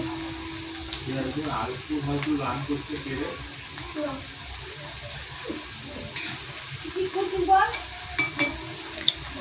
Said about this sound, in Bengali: পেঁয়াজটা ভাজা হয়ে গেলে পরপর সব মশলাগুলো দিয়ে দেবো